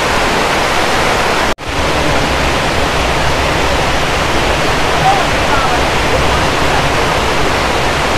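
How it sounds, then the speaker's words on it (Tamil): A waterfall on a trek in Wayanad roars as a loud, steady wash of broadband rushing water, close and continuous, broken only by a momentary cut near the start. "ஃபால்ஸ் பாருங்க, ஃபால்ஸ் பக்கத்தில் சாரல் அடிக்குது"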